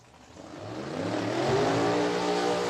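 Drag racing car engine at an eliminations event rising into a revving roar, building from moderate to loud and holding a steady high-pitched drone, with no talk.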